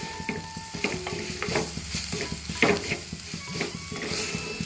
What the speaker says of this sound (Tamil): அந்த பச்சை வாசம் மசாலா வாசம் போகிற அளவுக்கு நல்லா வதக்கிடும்